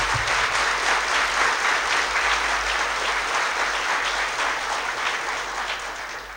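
An audience at a talk gives Dr. Rajiv Mehta loud, sustained applause. The steady clapping fills the room and slowly tapers toward the end.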